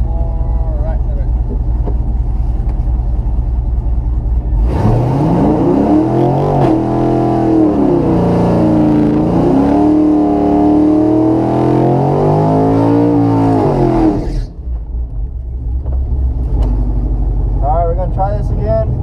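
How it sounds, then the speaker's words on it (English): A car performs a burnout at a drag strip, its engine roaring loud and close for about ten seconds with wavering revs, preceded and followed by a steady idle and voices talking. "Do a good burnout."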